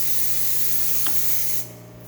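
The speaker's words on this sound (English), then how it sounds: "nice steady steam coming out of the one" Steam wand on a Rocket espresso machine just after a full overhaul, a steady loud hiss of released steam that cuts off abruptly near the end, leaving quieter background hum.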